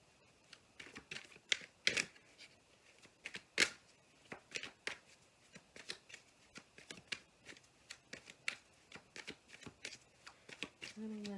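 Tarot cards being shuffled, a steady run of crisp riffling snaps and slaps close up, repeating irregularly through the stretch with a faint voice at times.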